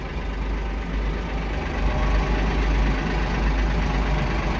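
A front end loader's engine idles steadily nearby, a continuous deep diesel rumble with a low throb that stays even throughout, with no voices.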